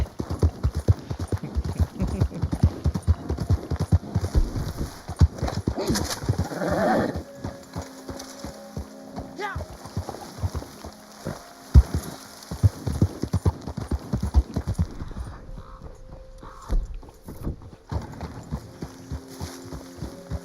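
Steady horse hooves clip-clopping at a walking pace in a video game, close and fairly loud, with a brief whinny partway through and an ambient outdoor backdrop.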